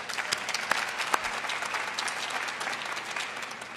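Audience applause at the National Cherry Blossom Festival kick-off, honoring the tree crew: steady, dense clapping from a crowd, sustained for several seconds with a few sharper individual claps standing out.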